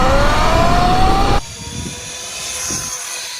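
A Sur Ron electric motorbike launching on an eighth-mile run, its loud motor whine climbing steadily in pitch before cutting off abruptly into quieter rushing wind noise.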